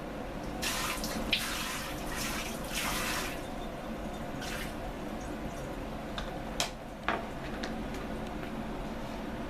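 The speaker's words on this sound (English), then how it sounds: "We want to wet down the bottom part of our panel." Water running and splashing onto a leather panel being wet down for a sporran, a steady close stream with brief louder gushes and a few drips, no talking.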